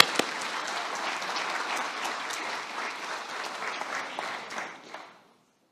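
An audience applauds a Pacific koli dance group at a health centre launch, a steady wash of clapping with a few sharp claps standing out, dying away abruptly near the end.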